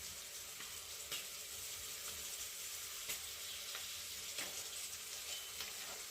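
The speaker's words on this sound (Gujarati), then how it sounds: "આપણે બળી ન જાય એ માટે આપણે એને સતત આમ હલાવતા રહીશું." Food sizzles steadily in a pan on a gas stove while it is stirred constantly to keep it from burning, with light scraping strokes recurring every second or so over a continuous frying hiss.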